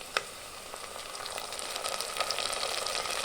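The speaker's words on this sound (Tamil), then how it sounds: "இந்த தக்காளி வெங்காயம்லாம் நல்லா வதங்கி வரட்டும்." Tomatoes, onions and curry leaves sautéing in a pan for a duck curry, giving a steady, close sizzle that builds slightly louder over a few seconds, with a sharp clink near the start and no talking.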